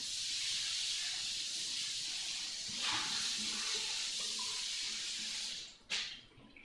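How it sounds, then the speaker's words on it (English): Running water hits a hot frying pan still holding oil and garlic, making a steady, loud hiss close up. It ends with a brief clunk and splash as the flow cuts off, and no one speaks. "I'm gonna turn the heat down and I'm gonna wash the pan out."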